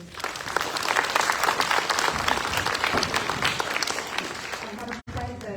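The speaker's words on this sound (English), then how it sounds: "So an extra round of applause for all of these students, please." A school audience at a student of the month ceremony claps in sustained, dense applause for several seconds, then breaks off with a brief cut before resuming.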